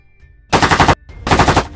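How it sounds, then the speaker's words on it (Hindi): Two loud bursts of rapid automatic gunfire, close by, separated by a short pause, as armed men on an island open fire on two people coming outside. "उनके बाहर आते ही दोनों पे फायरिंग होने लगती है।"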